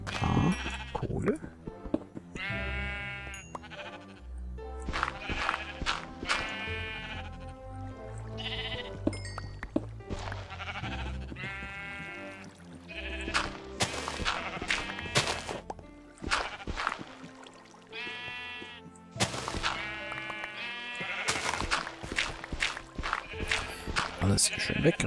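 Sheep in the Minecraft video game bleat repeatedly in short quavering calls, mixed with game effects and music over a continuous busy background.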